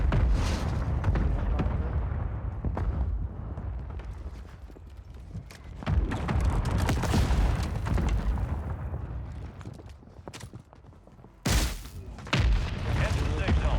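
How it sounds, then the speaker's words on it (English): Friendly mortar strike explosions in a battle royale video game, a series of heavy booming blasts at intervals over a rumbling game soundscape, with the loudest impacts near the end. "Friendly mortar strike on the way."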